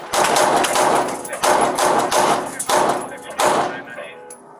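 Gunfire in a police standoff shootout with an armed suspect, four loud close cracks spaced about a second apart, each with a short echoing decay, followed by quieter trailing noise.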